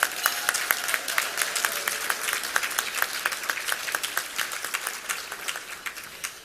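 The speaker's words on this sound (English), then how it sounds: "And we'll give him another round of applause." Sustained applause from the audience at a gala honoring Black women, with many hands clapping steadily and fading slightly near the end.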